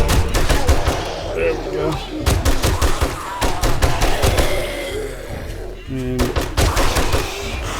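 Rapid bursts of video game gunfire crack out repeatedly across the scene, loud and dense, as ammo runs low while someone talks briefly over the shots.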